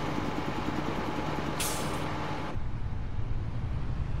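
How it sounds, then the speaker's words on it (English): In the Farming Simulator 22 video game, a tractor's engine rumbles steadily, then a short, sharp air brake hiss bursts out partway through, and the engine drops to a lower idle afterward. "I just love that sort of like air braking sound"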